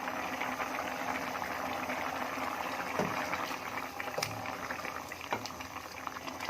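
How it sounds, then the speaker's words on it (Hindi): Water with onions comes to a steady rolling boil in a pot for mutton shorba, a dense continuous bubbling and popping that stays close and even throughout, with no voices. "पानी में उबाल आ गया है, थोड़े से प्याज भी हमारे गल गए हैं।"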